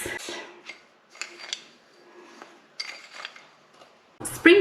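Demerara sugar and cinnamon being stirred in a bowl give a few short, dry scraping clinks and rasps, quiet and spaced apart, ending with a louder clatter.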